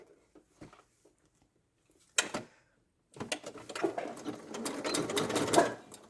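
Sewing machine stitches a teddy bear leg closed: a few faint clicks, a short burst, a pause, then a louder continuous run of rapid stitching close by.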